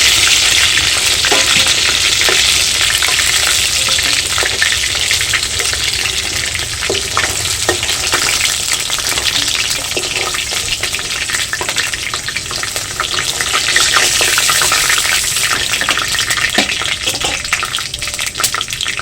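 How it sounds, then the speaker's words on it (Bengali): A close, loud, continuous sizzle of chicken pieces frying in a pan for butter chicken, with faint crackles and small pops scattered through the hiss and no voices. "এইভাবে আমি সমস্ত মাংসগুলোই ভেজে নেব।"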